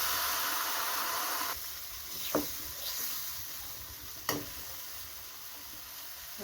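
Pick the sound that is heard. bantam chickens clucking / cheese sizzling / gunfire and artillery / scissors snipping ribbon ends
cheese sizzling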